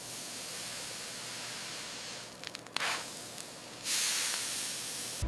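Steam hisses steadily in a large tomato processing factory as it loosens the skins of tomatoes, a loud continuous rush with brief spurts and a surge that grows stronger toward the end.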